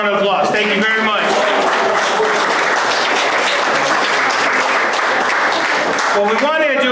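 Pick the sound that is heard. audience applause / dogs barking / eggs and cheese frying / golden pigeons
audience applause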